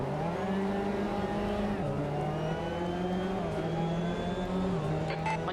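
A SEAT Cupra TCR race car at VIR in a sim racing game, its engine revving hard and climbing through the gears, loud and continuous with shifts and a slight tire squeal near the end.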